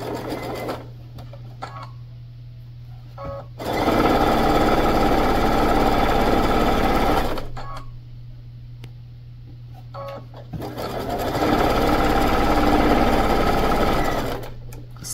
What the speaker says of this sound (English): we're going to sew these two together. And again, we're going to backstitch to make sure that that's good and tight.